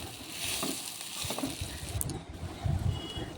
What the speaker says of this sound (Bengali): সিদ্ধ করা আলুটা যেটা আমি গ্রেট করে রেখেছিলাম সেটা এখানে দিয়ে মশলাটা মানে আলুর পুরটা ভালো করে এটাকে একটু কষে নেব